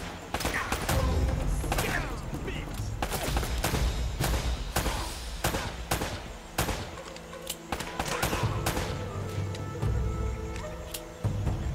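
Rapid bursts of gunfire crackle and pop repeatedly in the video game Uncharted: Drake's Fortune, amid a dense, busy mix of effects and music, loud throughout.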